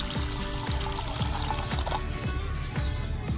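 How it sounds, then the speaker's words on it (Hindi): Soaking water from chana dal is poured into a pan, a continuous close splashing pour with steady rushing texture and a few soft clinks throughout. "अब इसको पैन में डाल दीजिए और साथ में वही पानी जिसमें दाल को भिगो कर रखा था"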